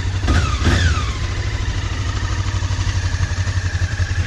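Honda CB 500 motorcycle running just after its first start following six months of winter storage, a steady close idle with a pulsing exhaust beat and light clatter, plus a brief rising squeal near the start.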